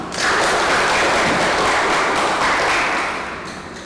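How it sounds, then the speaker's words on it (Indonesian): A classroom group applauds together, a dense burst of clapping that rises quickly, holds steady for about three seconds and then thins out toward the end. "Beri aplaus untuk kita semua."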